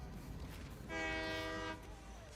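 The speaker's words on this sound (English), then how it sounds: "Man, that horn is very loud." A loud, sustained ghost train horn from the Satisfactory video game blares for about a second over steady rolling rail rumble, then cuts off as the train keeps running.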